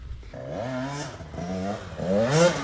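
An 85cc dirt bike climbs a hill at Croom ride park, its two-stroke engine revving close by in rising, wavering surges that dip briefly and then climb hard again toward the end.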